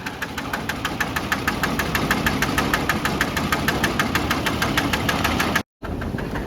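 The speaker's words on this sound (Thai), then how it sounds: "นายท้ายเรือกำลังบังคับเรือ เข้า ฝั่ง" A steady boat engine idles close by while docking on the Chao Phraya River, throbbing with a fast, even knock, and cuts out briefly near the end before resuming.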